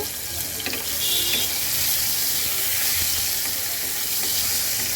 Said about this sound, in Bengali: এখন দিয়ে দেব আলুগুলি আলুগুলো সুন্দর করে একটু ভেজে নেব